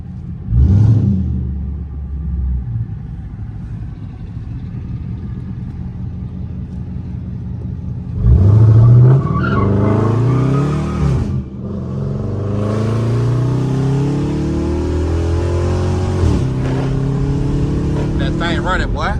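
Modified Dodge Charger R/T Scat Pack V8 revving hard, with loud throaty surges that climb and shift through second gear, close by, as a voice talks over the engine at points.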